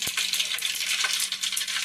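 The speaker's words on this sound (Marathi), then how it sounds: "आपण मोहरी घातलेली आहे ती जरा तडतडून द्यायची." Mustard seeds crackling and spluttering in hot oil in a pot, a close, busy stream of sharp pops and sizzles over a faint steady hum, with no voices.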